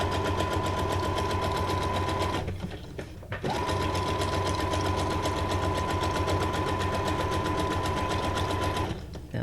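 A sewing machine runs steadily while stitching pockets for a Halloween junk journal, pausing briefly for about a second before resuming its even, continuous whir up close.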